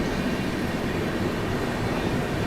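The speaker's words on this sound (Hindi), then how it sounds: "पहली ओवरटेकिंग जो हम कर रहे हैं, त्यौहार स्पेशल हजरत निजामुद्दीन से दुर्ग के बीच चलने वाली ट्रेन है।" A train at speed overtakes the Hazrat Nizamuddin–Durg festival special train, heard as a loud, steady, dense roar of rushing wheels and wind right up close.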